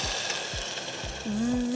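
A pan sizzles softly while paramannam, a milk rice pudding, cooks. The crackle is steady and fairly faint, with a brief tonal sound near the end.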